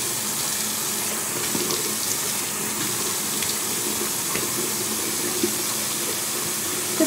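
Warm tap water running steadily into a sink for face washing, a constant close hiss and splash with faint bumps, no talk.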